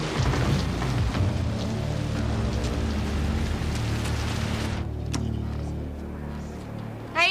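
Steady rain pours down around a car in a loud, dense hiss with a low rumble underneath, easing a little toward the end before a short knock.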